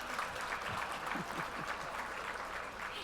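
Audience at an awards luncheon applauding: continuous, fairly faint crowd clapping at a steady level, with some voices mixed in beneath.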